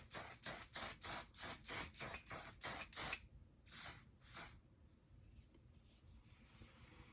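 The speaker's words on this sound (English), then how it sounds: "I'm currently using the One Size Until Dawn Mattifying Waterproof Setting Spray." One Size Until Dawn Mattifying Waterproof setting spray hisses in about nine rapid, evenly spaced bursts, then after a short pause two more puffs, all close and fairly loud, with faint handling noise afterward.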